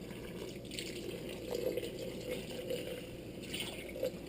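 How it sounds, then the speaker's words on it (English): A tap runs steadily into a container while about two cups of water are measured for hopia monggo dough, an even rushing stream with small splashes, close and without talk. "Then get a water. This is about 2 cups of water."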